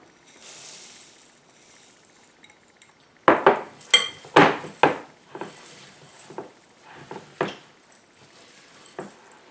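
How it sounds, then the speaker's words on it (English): A spoon stirs thick birdseed ornament mixture in a bowl, producing a burst of loud clinks and scrapes against the bowl followed by softer, scattered knocks, close up with no voices. "you might have to do the stirring because it does get pretty thick"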